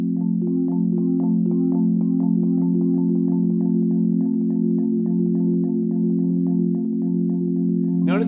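Four-mallet marimba roll using a wrist-lifting flop technique, a warm sustained low chord with a steady rapid triplet pulse of mallet strikes, played close and alone, ending with a brief bright attack.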